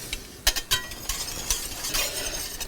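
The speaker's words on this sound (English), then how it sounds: "I'm going to put a little more and just keep whisking that as we go" A whisk working liquid into smoked pot roast gravy in a pan, producing quick irregular scraping and clicking strokes, close and fairly crisp, with no talking.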